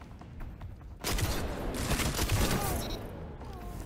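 Sniper rifle headshot in a first-person shooter video game: a sharp, loud gunshot that bursts in after a quieter stretch, followed by a dense rattle of further gunfire and game effects, with a voice briefly audible.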